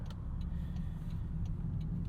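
A 2026 Toyota Corolla Hatchback FX compact car rolling into a grocery store parking lot, heard from inside as a steady low engine and road rumble with no talking.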